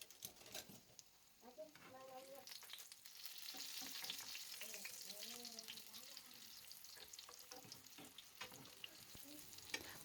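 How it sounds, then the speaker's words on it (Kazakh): Zucchini slices frying in a hot pan give off a continuous crackling sizzle, with occasional stirring clicks and a voice talking over it. "Енді екі жағын қызартып, жақсылап қуырып алатын боламыз."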